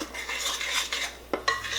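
Cornbread batter made from whole dent corn being stirred in a bowl, with soft scraping and clinks of a spoon against the dish, a short sharper knock near the end, close and fairly quiet.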